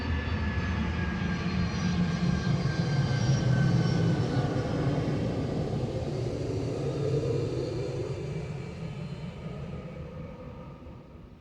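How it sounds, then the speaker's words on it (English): A truck drives by outside, a broad low rumble that swells to a peak around the middle and then slowly fades away, heard alone without voices. "a truck is driving by and it's messing up my whole train of thought"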